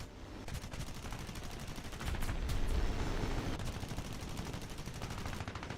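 Aircraft machine guns fire in War Thunder, a dense, rapid rattle of shots that carries on throughout the clip at a fairly faint, distant level.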